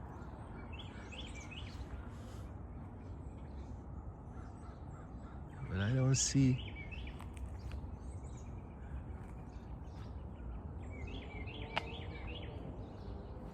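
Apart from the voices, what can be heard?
birds singing in the morning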